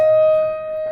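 A single sustained violin tone, the first violins stating the opening motive of the first movement of Beethoven's Symphony No. 5, held evenly for under a second, clear and close.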